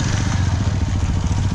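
Old motorcycle with a loud silencer exhaust, a steady close throbbing engine rumble with rapid pulsing beats.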